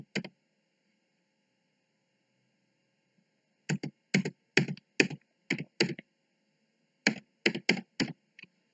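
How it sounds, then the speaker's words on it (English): Someone types Python code on a computer keyboard. Several short, fast bursts of crisp key clicks come after a long pause, and each burst is separated by a brief gap. "So let me just type the code."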